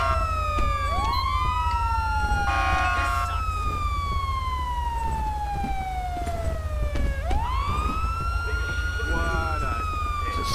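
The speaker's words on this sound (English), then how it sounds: "Is it still my siren?" Police sirens in the video game GTA V with the LSPDFR mod, wailing tones sweeping up and down loudly and continuously over a steady engine drone, with a second siren pattern layered in briefly near the start.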